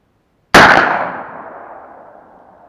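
A single sharp shot from a Makarov air pistol with a clanging hit on an LCD TV target set at 55 metres, one loud abrupt crack that rings and fades slowly over about two seconds.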